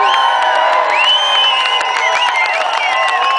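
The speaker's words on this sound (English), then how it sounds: "Is that all it takes to get applause?" A rally crowd at a Tea Party Express event cheers and whoops, a dense, steady, loud wash of many voices with shrill whistles and shouts rising over it.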